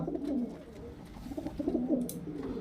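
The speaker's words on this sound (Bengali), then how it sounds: "এটা মাদা পায়রা" A female highflyer pigeon at a pigeon seller's stand coos in low, throaty, repeated phrases, close and steady throughout, with a brief faint higher sound near the end.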